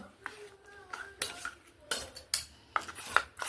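A utensil scrapes and clinks against a pan while ground mustard-poppy paste is stirred into fried prawns, with irregular close knocks and faint voices in the background.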